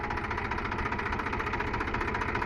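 Tractor engine running in a cotton field while ploughing, a steady throbbing mechanical drone with fast regular pulsing, close and continuous throughout.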